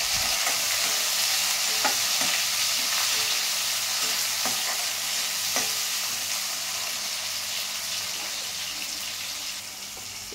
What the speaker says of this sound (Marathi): इथे आपले टोमॅटो शिजत आलेले आहे.